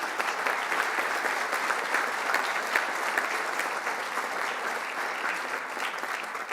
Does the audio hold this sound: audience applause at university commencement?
yes